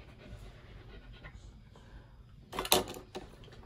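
A husky pants in short, quick breaths close by indoors, with a sharper rustle or bump partway through and a person speaking softly.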